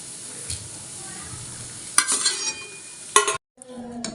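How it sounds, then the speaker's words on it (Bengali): Coconut and jaggery filling for mung dal puli pitha being stirred in a pan, with a soft continuous scraping and a few louder clattering bursts near the end; no one speaks. "এই যে নারকেল আর গুড় দিয়ে দিলাম এবার এর সঙ্গে নাড়িয়ে পুর বানাবো"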